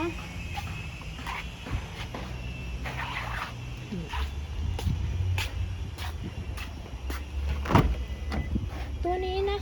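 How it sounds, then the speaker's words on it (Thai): Power windows hum up and down on a 2019 Toyota Revo 2.4J single-cab pickup with manual transmission, motor whines faint under someone talking throughout, with occasional door clicks. "มาพร้อมกับกระจกไฟฟ้านะคะ"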